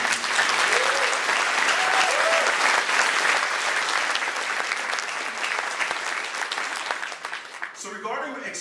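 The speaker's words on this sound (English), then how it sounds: "let me hear a round of applause for you two" Applause from the audience at a mental health educational conference: steady hand clapping with a few cheers, fading slowly over about eight seconds. A voice starts speaking as it dies away.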